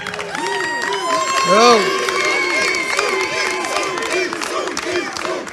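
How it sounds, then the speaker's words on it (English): Lively fight-night crowd at an ECE Extreme bout, loud sustained cheering and shouting with whoops rising to a peak near the middle, busy and close throughout. "quite a lively crowd tonight"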